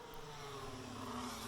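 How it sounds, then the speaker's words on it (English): Engines in the F1 23 racing game rev in a steady, continuous drone with a rising whine, loud and unbroken throughout with no talk over it. "I hear revving engines."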